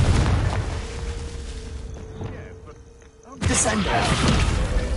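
A Confringo fire spell in Hogwarts Legacy erupts in a loud, broad explosive burst that holds as a rumbling roar, following a quieter stretch of game sound.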